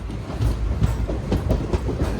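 Repalle Express rolling into small two-platform Vemuru railway station 38 minutes late, a close, steady rumble of railcars with soft clickety-clack wheel beats throughout.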